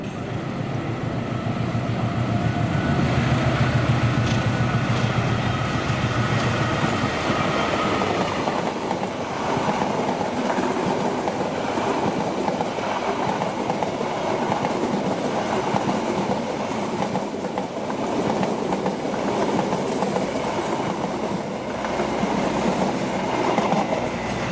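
Indonesian passenger train rolling past at Bekasi Timur, a long steady roar of railcars with rhythmic clickety-clack from the wheels over rail joints and occasional faint squeals, loud and close throughout.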